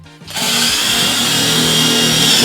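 A Ryobi drill starts abruptly and whirs loudly at high speed, driving a screw into wood in one steady, close burst with no pause.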